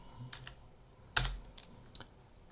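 Keys on a computer keyboard are pressed in a few quick, close clicks, one louder key strike standing out mid-sequence, the rest soft and spaced, with no voices.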